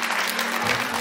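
Steady applause from an audience honoring chefs at a tourism vocational school celebration in Ruse, a dense even wash of clapping that fills the short moment without a break.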